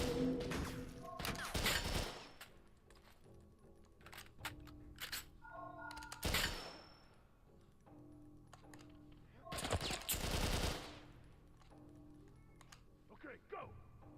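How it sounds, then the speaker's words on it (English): Assault rifle gunfire in a video game, heard as several loud bursts of rapid shots separated by quieter stretches of game sound, with a last short burst near the end. "How many assault rifle blasts do you need to take before you die?"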